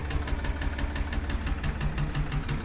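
A farm tractor's diesel engine idles steadily at close range ahead of a trip for servicing, giving a continuous low rumble with a rapid, slightly knocking pulse and no talking.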